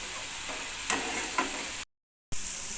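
Fried pointed gourd and spices sautéing in a pan for an onion-based curry: a steady close sizzle with a few soft stirring scrapes, cut by a brief moment of silence before the hiss resumes.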